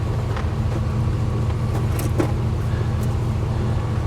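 A 1943 Westinghouse portable air compressor's electric motor runs with a steady, low droning hum, constant and close, with a few faint clicks and no talking.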